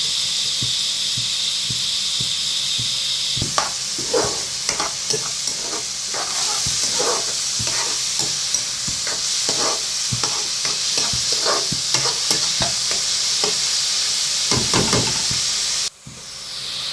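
Vegetables, salt and cashews sizzle steadily in a pan for upma while a utensil stirs and scrapes through them in repeated close clacks, with a constant frying hiss underneath and no talking.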